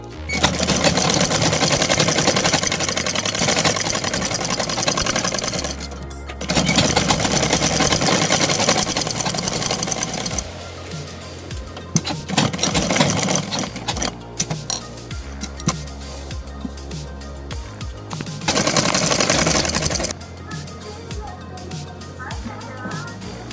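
A sewing machine runs in long steady bursts while double-stitching the edge of a kurta, with short pauses between runs and a voice talking over parts of it.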